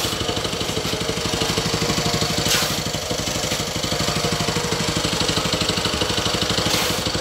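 Steady, close Honda petrol engine on a concrete power trowel runs throttled up, a continuous even chugging drone with faint clatter and no pauses.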